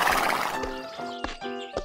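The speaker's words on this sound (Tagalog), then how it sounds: "sumakay si Jonas sa kanyang kabayo upang mangahoy sa kagubatan." A horse ridden through a forest, its neigh and whinny ringing out alongside steady clip-clop hoofbeats, close and clear with no talk.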